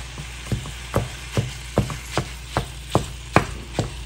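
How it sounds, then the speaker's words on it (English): Crackling sizzle of ground beef frying in a hot pan on medium-high, with a series of sharp pops and scraping taps of a wooden spatula recurring roughly every half second, close and clear. "So just as soon as that starts sizzling"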